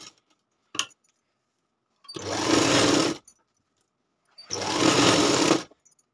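A sewing machine runs a round stitch on a lined katori blouse in two separate bursts of about a second each, loud and close, with a brief click before the first run and quiet between.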